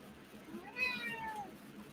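A house cat gives one clear, drawn-out meow near the middle, close and fairly loud over a quiet room.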